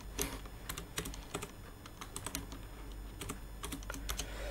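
Python code being typed on a computer keyboard, a quiet, close run of irregular key clicks with brief pauses between bursts.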